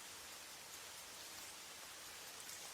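Steady rain falls for ASMR, a continuous soft hiss of drops on a surface, even and close with no talk or thunder.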